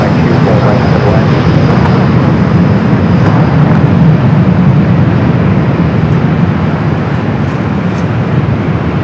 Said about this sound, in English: That delayed American Dreamliner.